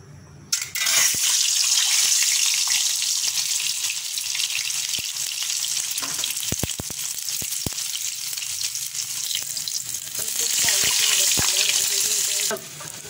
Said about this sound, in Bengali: আমার ডিমটা ভাজা হয়ে গেছে